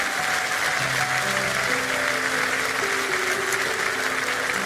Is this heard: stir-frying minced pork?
no